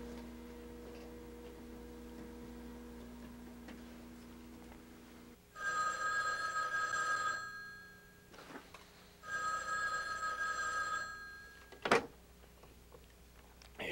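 Telephone ringback heard on an outgoing call in a quiet room: two ringing bursts of about two seconds each with a pause between them, thin and faint, followed by a short click.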